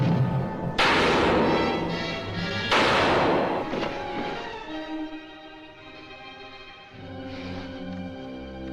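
Pistol gunshots in a 1952 gothic horror film, fired at a coffin seal: two loud sharp cracks about two seconds apart, each ringing out with crashing reverberation, then a fading resonant tail with a later softer hit.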